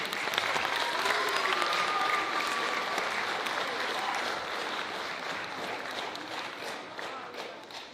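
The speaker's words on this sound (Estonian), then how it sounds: "Aplaus!" An audience applauds at a school playback show at Lääneranna Gymnasium, sustained dense clapping that starts loud and slowly tapers over several seconds.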